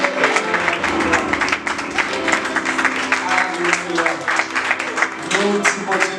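A church congregation applauds in a dense, steady wash of clapping, with voices and tonal sound mixed in throughout.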